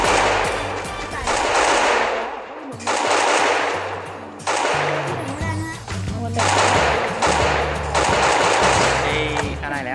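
Rapid bursts of automatic gunfire from the Free Fire video game, loud and dense in repeated volleys with brief gaps, with people talking over the shooting.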